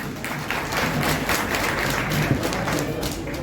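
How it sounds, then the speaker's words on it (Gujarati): An audience at a family community gathering claps to welcome a speaker, producing a dense, steady burst of applause at fairly close range. "સ્વાગત છે જસુભાઈ જિંજાળાને તાળીઓથી બતાવો"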